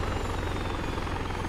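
A Littlebird helicopter in ArmA 3 drones steadily with a loud, close rotor and engine whir that holds constant throughout, with no talking.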